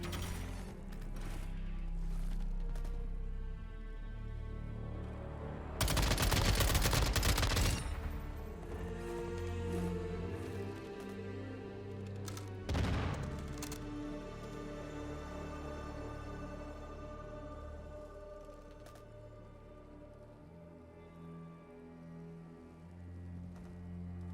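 Gunfire in Call of Duty Warzone 2.0 ranked play: a loud burst of rapid shots, then a single sharp shot a few seconds later, over steady game ambience and background noise.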